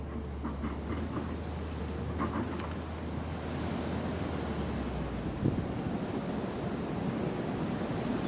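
Strong wind gusting at the coast, a steady broadband roar with low buffeting and faint surf underneath, unbroken throughout.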